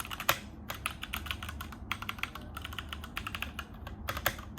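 Rapid, steady typing on a Keychron K6 mechanical keyboard with brown switches: close, crisp keystroke clacks in a continuous irregular rhythm over a low background hum.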